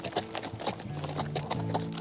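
Horse hooves clip-clop in a steady rhythm during a ride through the forest, close and clear, with faint tonal sounds running underneath.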